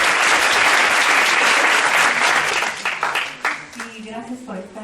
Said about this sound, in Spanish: Démosle un aplauso de bienvenida.